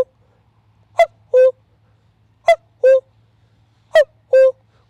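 A falsetto voice imitates a cuckoo, giving three evenly spaced two-note calls against near silence.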